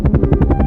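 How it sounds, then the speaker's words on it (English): A helicopter sound effect in a children's alphabet lesson: rapid, loud rotor thumps chopping in an even rhythm, close and alone. "H for helicopter."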